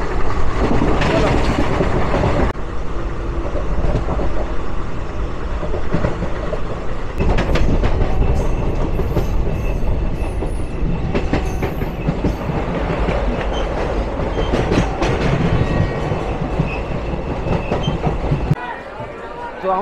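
A passenger train runs on rails near Bardhaman station in West Bengal, a loud, continuous rumble and clatter with rhythmic wheel clicks that holds steady and drops off sharply near the end.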